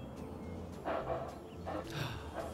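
A dog in the video game Fallout 3 gives a few short barks or woofs over a steady game ambience hum, with bursts spaced across the moment.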